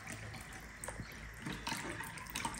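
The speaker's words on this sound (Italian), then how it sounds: "a questo punto aggiungiamo 1 litro di acqua naturale" Water poured into lemon juice for homemade lemonade, a steady liquid splash and gurgle running continuously at moderate level with no talking.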